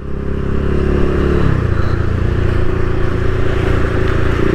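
A motorcycle engine revs loudly and continuously during a wheelie at a petrol pump, the tone shifting partway through as the throttle changes, close and steady with no talking.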